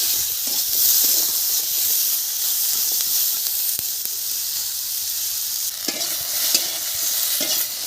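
Vegetables stirred and fried in a wok with barely any oil give a steady, close sizzle and hiss. Spatula scrapes and clinks break through it now and then, and nobody speaks.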